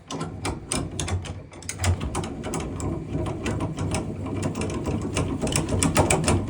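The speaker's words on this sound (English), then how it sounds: "what we first have to do is we have to crank this up" Ratchet crank on a ProWood display transport crate being wound up, giving a fast, steady run of sharp metallic clicks close by that lasts throughout.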